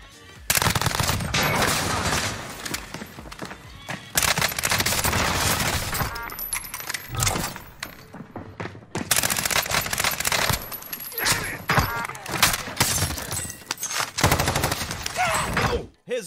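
Gunfire in the Warzone video game comes as dense, loud bursts of automatic weapon fire and shots in rapid clusters separated by short gaps, filling the mix throughout.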